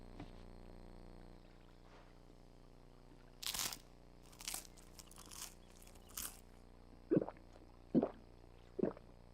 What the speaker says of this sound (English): She did not like the gulping sound.